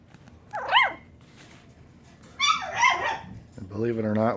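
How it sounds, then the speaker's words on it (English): Newborn puppies, still only just able to walk, letting out a few small high-pitched yips, squeaky barks and a whimper, close by and fairly soft, with short quiet gaps between them. "we just started to learn how to bark"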